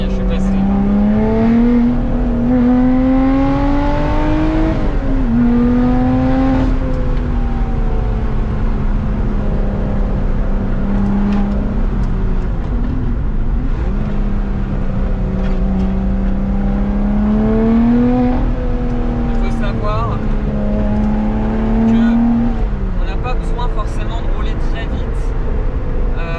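A Lotus Exige 380 Sport drives in sport mode with its exhaust valves open, the engine droning loud and close as it rises and falls through gear changes across the whole stretch, with a voice talking over it.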